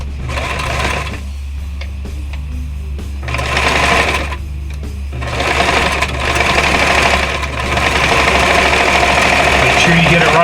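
A sewing machine running a zigzag stitch along the edge of a Harbor Freight wool blanket, with a low motor hum and rapid rhythmic stitching in several bursts, some separated by brief pauses and others running longer, under intermittent talking.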